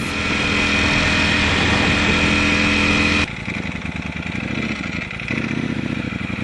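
A 2018 Ducati Panigale V4 Speciale being ridden, its engine loud and close with a sustained high revving roar that abruptly drops to a lower, choppier throttle note partway through, wind rushing over it.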